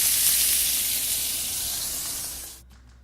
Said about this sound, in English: then we'll toss it right in the bacon grease and get it going